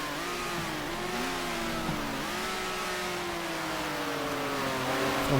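High-revving naturally aspirated 1970s Ferrari race car engine in the video game GTR2 at Sebring, a loud sustained wail climbing and dipping through gear changes, with another car's engine faintly layered underneath.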